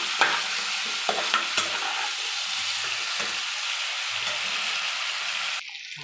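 Ground cumin and ginger paste sautéing with hilsa fish in a pan, a soft continuous sizzle broken by occasional stirring scrapes and clinks, fairly quiet and close.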